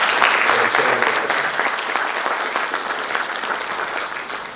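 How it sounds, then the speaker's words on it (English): An audience at a constitutional law symposium inauguration in India claps steadily for the session chair, a dense round of applause that slowly fades. "Can we please have a huge round of applause for the chair of this"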